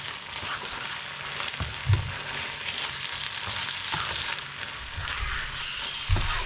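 Minced meat sizzling and frying in a pan with canned tomatoes, a steady broadband hiss with occasional stirring knocks and spatters, close and continuous with no talking.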